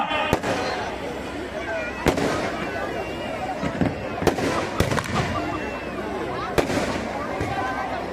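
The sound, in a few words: fireworks exploding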